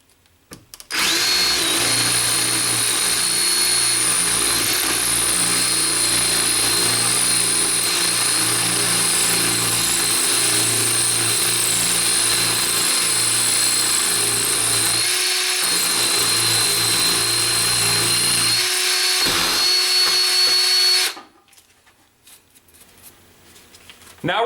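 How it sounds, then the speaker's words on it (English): Ingersoll Rand D5140 20V cordless drill boring into cinder block with a masonry bit, a loud continuous high-pitched whine and grinding lasting about twenty seconds with a brief dip partway, then stopping abruptly. "you can still use masonry drill bits to drill in things such as cinder blocks"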